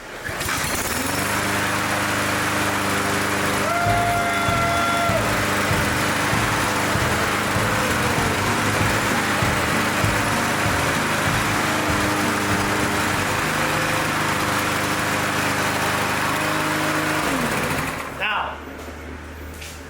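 Snapper-style riding lawn mower engine cranks, catches and runs at a loud steady rumble close by for most of the stretch, then cuts off abruptly near the end.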